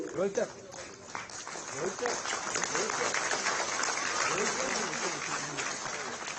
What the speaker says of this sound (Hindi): जोरदार तालियों से शुभकामनाएं दें।